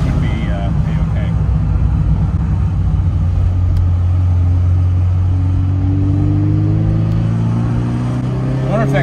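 A vintage Ferrari engine heard from inside the car, a loud sustained rumble with pitch rising and falling as the driver downshifts, with talk over the engine.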